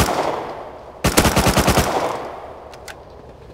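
Video game gunfire, a rapid burst of about a dozen automatic shots lasting under a second, loud and sharp against steady game background noise, followed by a couple of faint distant shots.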